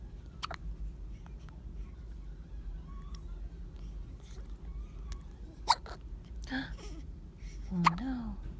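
A newborn girl hiccups several times, small sharp catches spaced irregularly, with soft breathy sounds and a faint whimper near the end over quiet room noise.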